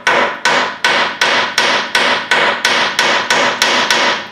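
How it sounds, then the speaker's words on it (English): A hammer strikes a rusted brake pipe fitting on a Land Rover 110 rear brake in a steady series of eleven sharp, loud metallic blows, each ringing briefly before the next, with no talking. "we're going to take a hammer"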